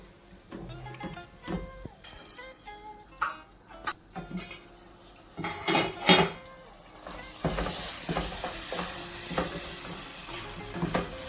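Prawns frying in a pan for a prawn roast, with stirring clatters and scrapes over a sizzle that grows louder and denser in the second half, close and without speech.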